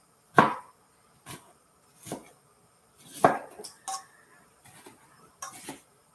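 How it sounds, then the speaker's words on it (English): A knife chops food on a hard board in a cooking demonstration, giving sharp, irregular knocks spaced about a second apart, with a few quicker double taps, close and clear with no talk. "I'm chopping it down lower this time."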